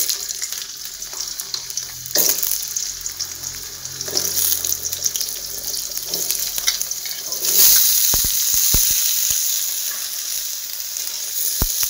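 Chopped vegetables hit hot white oil in a wok, giving a loud, steady sizzle with stirring clatter, which swells louder after the vegetables go in and continues with sharp utensil knocks.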